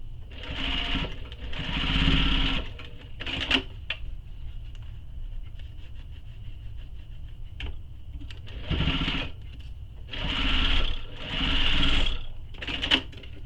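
A sewing machine bastes the sides of a messenger bag panel in several bursts of fast, rhythmic stitching. Each run lasts a second or two, with quiet pauses between runs and no voices.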